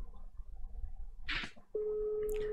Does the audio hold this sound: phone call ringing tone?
yes